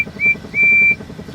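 A small steam engine's whistle gives two clear tonal blasts, short then longer, over a rhythmic chuffing beat, with another bright tone starting at the very end.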